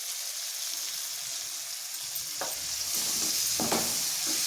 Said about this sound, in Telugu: ఇప్పుడు ఈ టైంలో మనం తోటకూర వేసుకుందాం